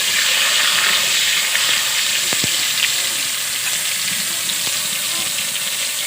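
A spice paste of ginger, garlic, chilli and tomato frying in a pan, a steady loud sizzle with faint stirring clicks throughout.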